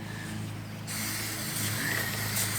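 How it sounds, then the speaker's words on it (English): Chain cleaner sprays from an aerosol can onto the chain of a Triumph Speedmaster motorcycle, a close, steady hiss that grows stronger and keeps going, with no talking. "you want to spray both sides of the chain"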